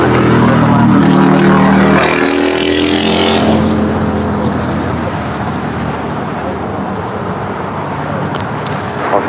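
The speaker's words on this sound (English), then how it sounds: "It's a 777-300ER now in short final for 24 right." A China Airlines Boeing 777-300ER on short final into LAX, its loud, steady engine roar at its peak early on and then easing into a broad, lower rumble that holds to the end.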